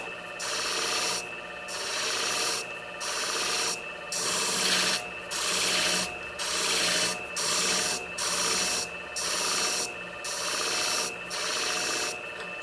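A 7-inch beauty shear tip is sharpened with rhythmic rubbing strokes, about a dozen even passes each lasting roughly half a second with short gaps, close and steady with no talking.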